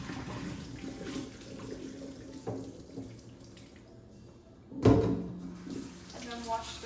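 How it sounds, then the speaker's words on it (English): Water splashes out into a sink in brief gushes, with a louder pour near the end amid low background noise. "So I'll pour the water out."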